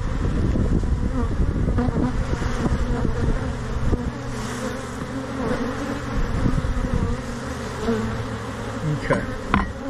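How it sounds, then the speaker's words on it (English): A honeybee swarm buzzes loudly and continuously close to the microphone, a dense steady drone with light wind noise and no talking. "think what we're going to do is go ahead and shake these bees off."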